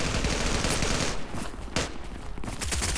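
P90 gunfire in the mobile shooter Zula Mobile, a dense, loud, continuous burst of rapid shots with little pause across the whole stretch.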